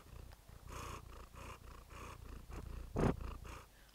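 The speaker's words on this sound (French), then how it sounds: "En fait, dès qu'elle me voit, elle ronronne." A house cat purring close up, a soft rhythmic rumble pulsing steadily about twice a second, faint and alone.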